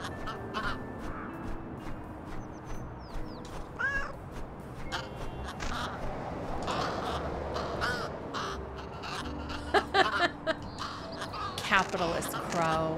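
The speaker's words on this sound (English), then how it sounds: "This crow is very nice." Crow cawing in the Little Kitty Big City video game, repeated harsh caws amid busy game effects and music, with a voice talking over it throughout.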